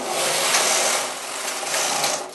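A knitting machine carriage slides back across the needle bed in one steady mechanical whir with a faint rasping edge, close and fairly loud, no voices.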